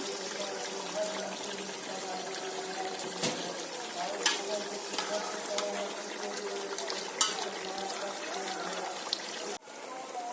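Chicken frying in about three tablespoons of oil in a pan, a steady close sizzle with intermittent stirring clinks and scrapes of a utensil.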